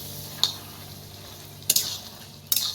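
Taro leaves being stirred in a pan, three separate scraping strokes of a spoon against metal over a low, steady background hiss, close and fairly loud.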